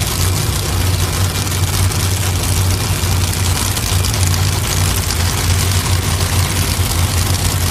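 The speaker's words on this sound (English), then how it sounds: "Finishing up the wheelie bar as they ease Belushi forward towards that top beam" A Pro Modified drag race car idles as it eases forward toward the start line, a steady low engine rumble with a throbbing lopey note holding constant and close throughout.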